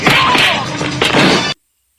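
Punches land in a movie fistfight, a few sharp whacks and smacking impacts in quick succession with swishing movement, loud and close, ending abruptly in silence.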